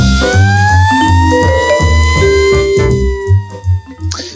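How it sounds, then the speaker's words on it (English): A wailing police-style siren rises and falls over a steady musical backing, loud and close, ending with a few sharp hits. "I've never understood why that police siren is there"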